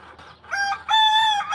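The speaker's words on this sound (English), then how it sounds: "man, this rooster will not be quiet this morning." A rooster crows nearby in the morning, loud and clear: a short opening call, then a long, drawn-out cock-a-doodle-doo, with no one talking.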